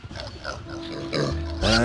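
Pig squeals and grunts in the Warcraft Adventures video game, a few short oinks rising into a loud, shrill squeal at the end, with no talking.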